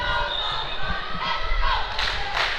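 Crowd noise at an indoor dodgeball match at the European championships, a steady roar of spectators with thumps of balls bouncing on the court and a swell of cheering toward the end.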